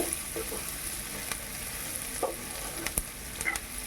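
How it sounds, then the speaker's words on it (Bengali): Salted onions sizzling in a hot pan, a steady close frying hiss with a few sharp scrapes and taps from stirring over a few seconds, no voices. "তাহলে পেঁয়াজটা তাড়াতাড়ি ভাজা হয়ে যাবে"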